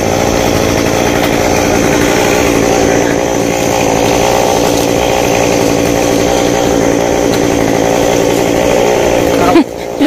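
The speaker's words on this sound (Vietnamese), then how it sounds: "cưa tỉa cành cây sao này" A chainsaw runs steadily and loud while trimming branches high in a tall sao (golden oak) tree, the engine held at a constant high drone for about ten seconds before cutting off abruptly near the end.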